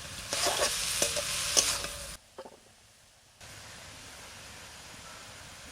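Greens sizzle loudly in a pan with occasional stirring clicks, then the frying drops away to a quiet pause before a steady low hiss returns.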